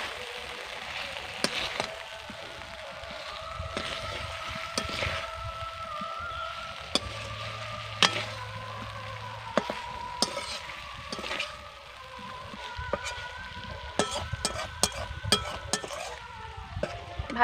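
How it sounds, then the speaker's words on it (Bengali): Fried potatoes and okra are stirred with spices in a pan, a spatula scraping and clinking against metal in irregular strokes over a low, steady sizzle, close and moderately quiet. "এবার আমি ভেজে রাখা আলু আর ঢেঁড়সকে দিয়ে দেব। এবার ভালো করে মশলার সঙ্গে মিশিয়ে নেব।"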